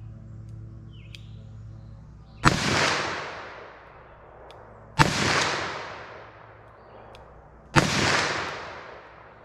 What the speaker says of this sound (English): Let's try the 357 mag, see how I can do with this double action.